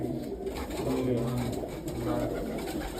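Pigeons kept by fanciers coo in a steady, low, overlapping drone close by, with faint talk in the background.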